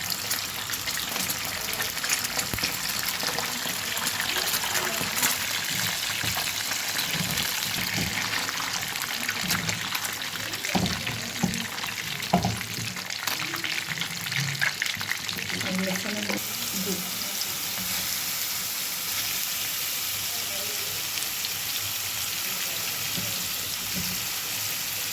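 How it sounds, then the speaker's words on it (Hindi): Pieces of fish for a fish curry fry in hot oil in a pan, giving a steady, close hiss with scattered crackles and a few soft clatters partway through. "ये मैं अब फिश फ्राई कर रही हूँ।"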